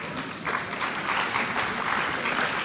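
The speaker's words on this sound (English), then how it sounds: "he deserves your applause" Audience applause in a lecture hall, with steady clapping from a crowd that swells after a moment and holds at a fairly constant level, with no voices over it.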